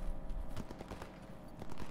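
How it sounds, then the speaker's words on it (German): Rapid, dense bursts of gunfire from the video game STALKER GAMMA crackle continuously at low volume, like a sustained firefight at some distance, with no voices over it. "Hier sind auch schon wieder jede Menge Schüsse."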